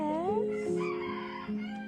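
A chicken makes drawn-out, warbling calls close by, a rising crooning note followed by softer murmuring tones.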